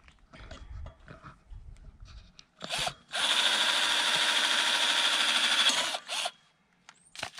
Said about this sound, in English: So I'm pre-drilling a hole